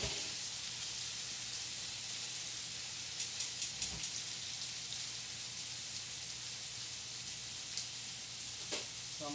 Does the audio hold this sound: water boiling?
yes